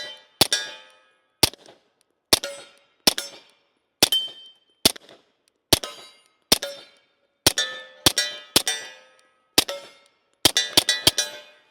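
A Beretta 92X pistol with a threaded barrel and suppressor fires Remington subsonic ammunition. About twenty sharp, clanking shots come in uneven pairs and clusters, each followed by a short metallic ring.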